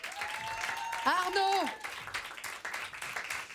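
Applause and cheering from an audience, with a voice shouting out over the clapping partway through.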